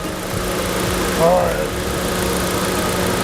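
A 2019 Suzuki Swift 1.2 GL idles with a steady low rumble while someone speaks over it nearby.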